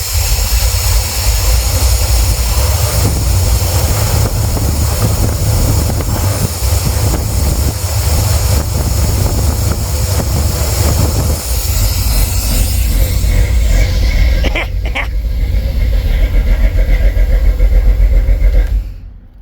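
A 1981 dually truck engine runs at a steady loud idle, a continuous low rumble with a brief clatter near the end before it cuts off abruptly.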